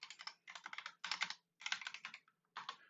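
Computer keyboard typing in bursts of rapid keystrokes separated by short pauses, made while renaming objects in Blender; close and clear, with no talking.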